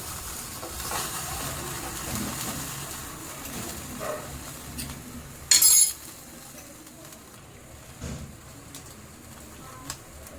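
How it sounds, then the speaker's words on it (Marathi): Chicken tandoori pieces roast and sizzle in a pan and get flipped, a steady close sizzle broken by a sharp clatter of turning and a few light clinks, with some talking in the background. "एक साईड आपण चांगली भाजून घेऊया नंतर पलटी मारूया आता आपण पलटी करून घेऊया या साईडने"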